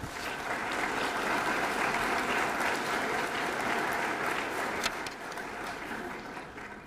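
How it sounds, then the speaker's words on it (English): An audience applauding at a GED graduation ceremony, a dense sustained wash of many hands clapping in a large room, steady and loud throughout with slight tapering near the end. "I ask that you applaud them as they stand for this recognition."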